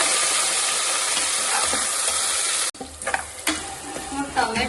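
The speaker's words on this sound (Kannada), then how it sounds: "ಟೊಮೆಟೊ ಇಷ್ಟು ಫ್ರೈ ಆಗಿದೆ." Tomato fries in a hot pan for egg biryani, with a steady loud sizzle that drops off sharply partway through, followed by softer crackling and the scrape of stirring.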